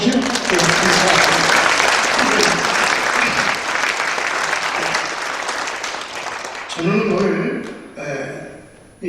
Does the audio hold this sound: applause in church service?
yes